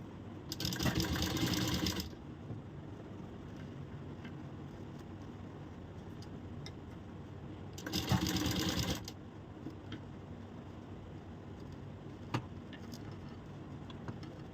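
Sewing machine stitching a blouse, with two separate bursts of fast, even mechanical chatter, each lasting about a second or more, separated by quiet room tone with small handling clicks.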